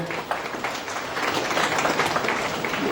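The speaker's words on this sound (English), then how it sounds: "I think you guys need to clap for yourselves." Conference audience at Goa's first AI event applauding themselves, a dense, steady wash of many hands clapping at moderate loudness throughout, filling the room without any speech over it.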